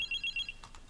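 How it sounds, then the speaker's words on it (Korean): A pager beeps in a quick series of short, thin electronic tones, fairly faint, followed by a couple of soft bursts of noise. "아마 사업상 바쁘신 삐삐인가 봐요"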